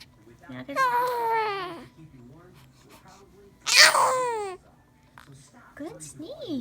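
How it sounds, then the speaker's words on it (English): A young child sneezes loudly once, close up and sharp, amid whimpering, babbling vocal sounds before and after in a quiet indoor room. "You got any more sneezes?"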